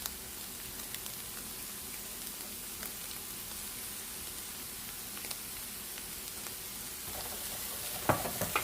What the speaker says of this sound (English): We've been frying the carrot for about 4 minutes now, and I'm just going to go ahead and then add in the pepper, the mixed pepper.